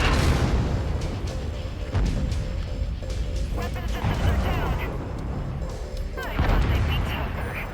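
Missile launches and explosions from the MechWarrior 5: Mercenaries video game, loud rumbling booms and crackling bursts recurring over a dense battle background, with a synthetic voice speaking.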